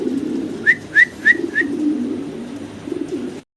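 Fancy pigeons coo close by, a run of four quick bright calls over a low steady murmur of more cooing birds in the background.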